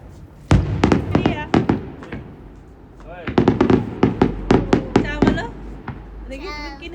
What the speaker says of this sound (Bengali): বাজি ফুটাচ্ছে